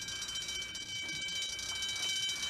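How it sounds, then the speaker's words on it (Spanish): An elevator alarm rings steadily as a continuous high electronic tone with layered pitches, sounding from a distance against a quiet room background. "Esa es la alarma del ascensor."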